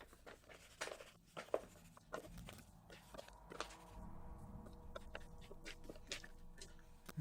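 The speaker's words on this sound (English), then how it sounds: "Let me write that down real quick." Quiet pen writing on paper in a close, soft ASMR setting, with scratchy strokes and taps in short bursts over a faint steady background.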